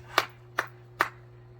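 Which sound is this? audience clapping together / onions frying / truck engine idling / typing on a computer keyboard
audience clapping together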